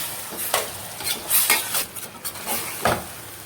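A kilo of boiled intestine stirred into masala in a pot for kudal kulambu, with wet squelching stirs and light utensil scrapes over a soft sizzle, several uneven strokes close by.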